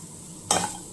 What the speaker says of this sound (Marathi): हे व्यवस्थित आता मिक्स करून घ्यायचं